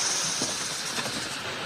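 A train waiting at a station before departure, heard as a steady, fairly loud broadband hiss and rumble that fills the whole moment, with no speech over it.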